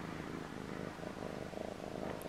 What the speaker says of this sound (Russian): Мурчит.